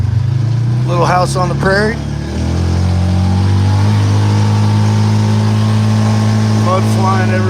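A muddy farm pickup truck engine revs and drives along a road, a loud, close rumble that rises and settles while a person talks over it.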